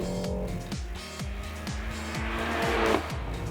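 French hot hatch on a race track, its raspy engine rising through repeated gear changes with a rhythmic stepped pattern and a brief tire squeal near the end, heard close and loud.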